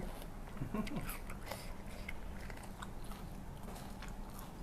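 Someone bites into and chews blood cockles drenched in a fiery chili and fermented fish sauce, with a few close, crisp crunches and soft wet mouth sounds, quiet and up close.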